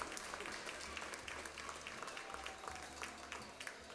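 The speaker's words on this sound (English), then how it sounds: "Let's give a round of applause to your finalists here" Audience applause for finalists at a county youth livestock swine show, steady dense clapping from a crowd in an arena, moderately distant and continuous throughout.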